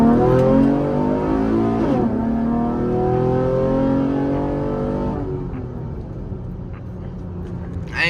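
Loud fifth-generation Chevrolet Camaro pulling hard from first gear, a deep rising engine roar that climbs, drops briefly at a shift, then continues strong before easing off near the end, heard from inside the car.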